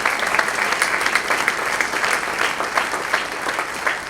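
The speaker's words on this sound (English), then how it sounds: "Give him a round of applause." An audience at a Riverview 7-8 grade winter band concert claps in steady, dense applause, loud and sustained throughout without fading.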